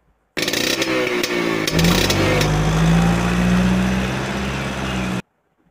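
A scooter engine starts and revs, rising into a steady loud drone that holds near and alone before cutting off abruptly.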